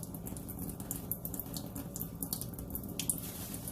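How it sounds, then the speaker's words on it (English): Tap water runs steadily into a kitchen sink for washing smoked ham hocks, a continuous soft splashing stream heard close and fairly quiet, with no talking. "you want to keep your water on because we're going to wash the ham hocks off really good,"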